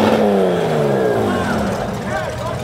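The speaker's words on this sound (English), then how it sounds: "That car's so low, they had to remove the radiator." A lowered car rolls past in a July 4th parade, its engine droning and rising a little in pitch, fairly close and loud, with crowd noise and voices around it.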